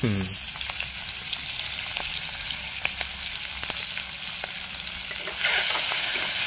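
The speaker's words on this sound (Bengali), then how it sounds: "এবার তেলটা গরম হয়ে গেছে, ওর মধ্যে ভেজে নেব" Shrimp coated in salt and turmeric fry in hot oil, giving a loud, continuous sizzle heard up close that swells slightly toward the end.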